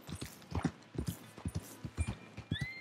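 Horse hooves clip-clop steadily on the ground in the video game Red Dead Redemption 2, a close, even four-beat walking rhythm that repeats for the whole short stretch with no voice over it.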